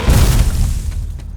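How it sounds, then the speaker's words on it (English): An air cannon fires toilet plungers at raised pressure, giving a single loud, deep boom that rolls off into a fading rumble. "Don't worry, these only fire toilet plungers."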